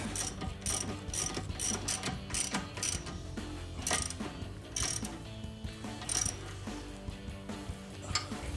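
A hand ratchet snugs a carriage bolt on a Bilstein B8 5100 steering damper being installed on a Jeep Gladiator JT, giving steady rapid pawl clicking in repeated bursts, close and clear with no talking.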